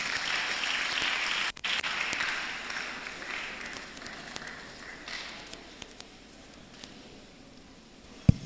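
Fairly faint applause from the audience at a national public speaking competition semi-final, steady clapping that gradually fades and thins out over several seconds, with a thump near the end.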